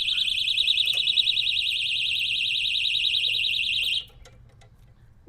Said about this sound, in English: Now there's the alarm.